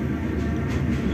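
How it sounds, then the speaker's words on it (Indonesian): A commuter train rumbles into Jakarta Kota station with a continuous low, heavy rolling sound and a faint higher rattle, close and fairly loud, with no talking. "kereta menoreh mengakhiri perjalanan di tujuan akhir stasiun Jakarta Kota"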